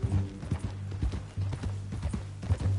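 Steady clip-clop of horse hooves at a walking rhythm in the video game Red Dead Redemption 2, fairly close, with a low rumbling background throughout.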